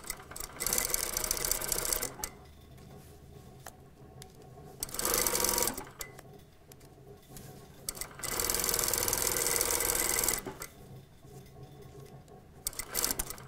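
Bursts of close, rapid sewing-machine stitching run down a panel skirt toile seam from waist to hem, with a back tack, loud runs separated by quiet pauses as the fabric is repositioned.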